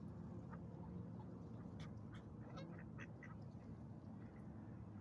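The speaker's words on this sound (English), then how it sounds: "But ducks, how relaxing, how therapeutic, and how calming it is just to be down the lake." Ducks quack at a lake, several short scattered calls sounding faint and somewhat distant over a steady low outdoor background, with no talking.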